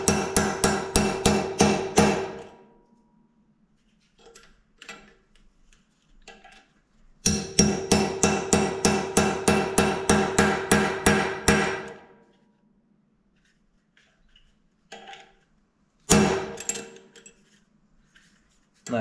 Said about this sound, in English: this is a fourth generation shoe hammer. I use it for the eyelets, and I use it for straightening blades.